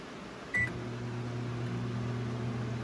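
A single short electronic beep from a microwave oven keypad, followed by the steady low hum of the microwave running.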